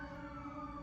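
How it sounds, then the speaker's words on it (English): Steady wailing siren from a passing fire truck on a street, holding a sustained tone at moderate loudness with no voices over it. "Oh, okay, maybe that's a fire truck."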